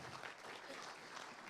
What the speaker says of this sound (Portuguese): peço uma salva de palmas para Fernando Bittencourt